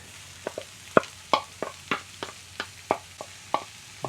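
Meat goes into a pan of fried onions for enchiladas, giving a close sizzle broken by a dozen sharp scraping stirs at an irregular steady rhythm.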